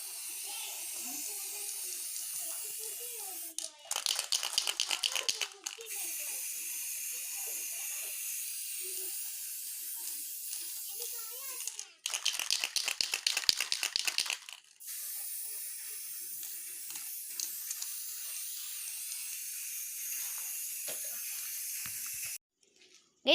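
Matte black spray paint is applied to an old helmet in three hissing bursts from an aerosol can, each lasting a couple of seconds, close to the microphone and separated by quieter pauses.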